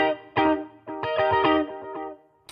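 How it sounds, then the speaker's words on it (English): A clean electric guitar in Logic Pro plays a short funky yacht-rock phrase of plucked chords and single notes, with a slight chorus shimmer, close and alone. "I'm going to add this second guitar part"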